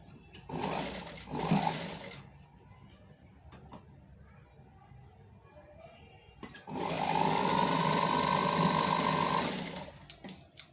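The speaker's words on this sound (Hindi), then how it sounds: "ये अभी ये सिलाई लगा के आपको दिखाती हूँ" A domestic sewing machine stitches a frock in two bursts, a short run followed by a longer steady whirring hum with rhythmic needle chatter, close by with quiet pauses between.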